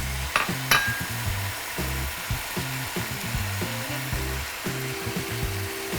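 Chopped sage and butter sizzle in a pan, a loud, steady frying hiss close by with a couple of brief sharp crackles early on and some low scraping underneath.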